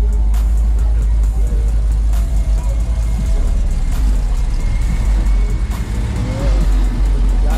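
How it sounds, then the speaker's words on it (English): A Ford Mustang muscle car engine runs at a car show, a loud steady low rumble that holds for several seconds, with crowd chatter mixed in behind it. "Yeah, I can hear it. Good job, that Mustang"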